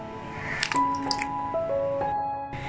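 Cut plantain pieces dropped into a pan of salted water, a few soft wet plops and squishy splashes close by in a kitchen, with faint clinks over a steady background hum.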